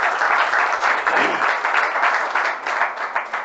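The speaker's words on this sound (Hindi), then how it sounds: "एक बार आप लोग भी अपने लिए तालियां बजा लें" A gathering at a family get-together event in Dalli Rajhara claps together in steady, moderately loud applause, the dense patter of many hands continuing without pause from start to finish.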